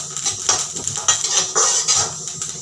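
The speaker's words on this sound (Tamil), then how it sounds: "இந்த அளவுக்கு வறுப்பட்ட உடனே பொரியிற சவுண்டு கேட்குதா" Ingredients dry-roasting in a pan for a nutritious ladoo, giving off a steady close crackle and popping with scattered clinks and scrapes of a utensil stirring against the pan.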